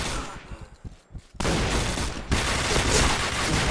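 Rapid automatic bursts from a Famas G2 rifle in the video game Point Blank, dense and continuous, growing louder and fuller partway through, with no talk.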